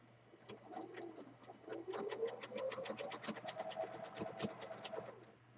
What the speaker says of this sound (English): I'm zigzag stitching. I'm going to zigzag stitch it.